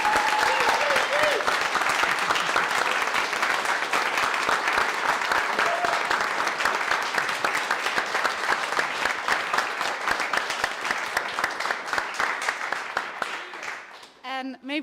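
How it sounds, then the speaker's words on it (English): A crowd at a Vienna Glühwein event applauds the team, dense sustained clapping that fills the space and slowly thins out before trailing off near the end. "please, a warm applause and a very loud applause for our"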